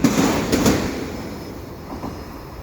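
The last car of a CP freight train rolling past at Beaconsfield, a few clickety-clack wheel knocks close by at first, then the rumble fading steadily as it moves away.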